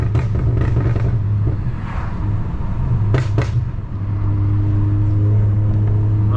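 BMW 535i running in sport mode, a steady low exhaust drone with irregular crackling burbles and pops layered over it, heard from inside the moving car with no talk.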